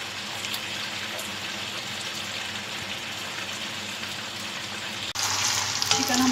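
Chicken fries in a pan for achar karahi gosht, a steady broadband sizzle that holds throughout and briefly dips before surging louder and hotter near the end, with no talking.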